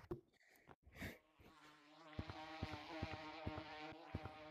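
Bees buzz in the Gorilla Tag video game, a faint droning hum with regular soft clicks, quiet and alone with no talking.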